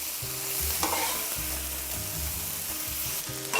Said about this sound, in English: Keep stirring to make sure the prawns are cooked on both sides.